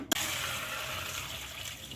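Boiled Hakka noodles tipped into a strainer, with the cooking water pouring off in a steady splashing rush after a sharp initial clatter, close and continuous.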